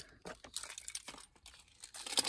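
A package of newly made business cards is unwrapped by hand inside a van, giving close, continuous crinkling and tearing of wrapping material with a louder rustle toward the end.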